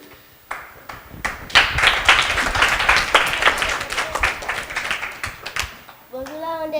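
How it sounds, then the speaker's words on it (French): Audience clapping for a child named Olivier at a children's Christmas dinner, a steady round of many hands that rises quickly and holds for several seconds before fading as a voice begins to speak. "On applaudit encore une fois."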